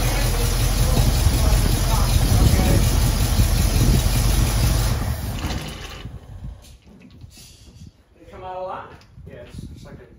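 A 1974 AMC Javelin engine roars loudly for about five seconds, then falls back to a quieter rumble while people talk over it.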